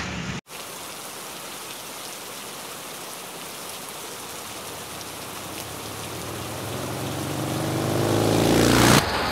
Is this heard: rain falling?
yes